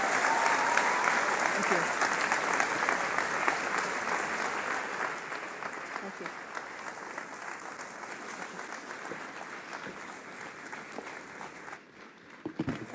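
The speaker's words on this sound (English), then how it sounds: "So another round of applause" Sustained applause from a large conference audience at a health and vitality event, a dense, even roar of clapping that slowly fades toward the end, with a voice briefly speaking over it.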